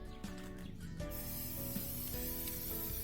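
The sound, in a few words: spray paint can spraying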